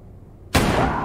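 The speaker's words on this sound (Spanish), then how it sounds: "Gunshots. Disparos." Sudden loud gunfire in the Adam Wolfe adventure game, a single broadband blast that bursts in after near silence and rings out without any speech.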